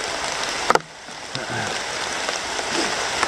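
Steady rain pattering on leaves and the forest floor around a debris hut shelter in the woods, a constant close hiss with a few brief knocks and rustles, no talking.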